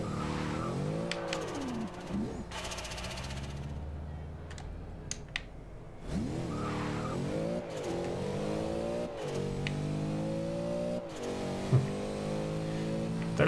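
Race car in Forza Horizon 2 launching off the start line: engine revs rise and fall through gear changes in repeated sweeping surges, loud and close, with brief tire scrub between pulls.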